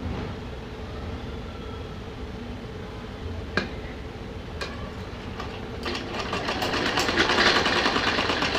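A sewing machine stitches a small dress for a Laddu Gopal idol, running as a steady close whir that swells louder over the last few seconds, with no talking.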